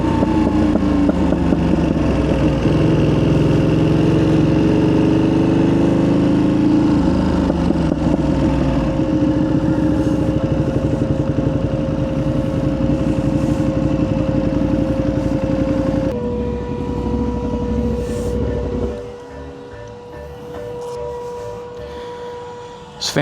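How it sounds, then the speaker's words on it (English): Cooling fans whir hard on an idling Ducati Panigale V2 motorcycle, a loud, steady engine drone with a high whine on top that shifts slightly partway through and then eases toward the end. "Yeah, the fans are screaming on it."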